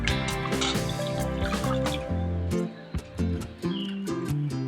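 Water splashing and dripping as a homemade rice face wash is rinsed off a face, close-up irregular bursts of splashes and trickles with brief pauses.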